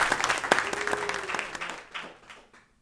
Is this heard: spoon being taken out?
no